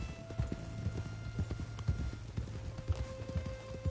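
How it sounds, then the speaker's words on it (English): A horse's hooves clip-clopping at a steady walking rhythm while ridden in the Red Dead Redemption 2 video game, close and clear, with a soft tonal hum in the background. "Mount up then, Morgan. Let's go then. Ah! Giddy up."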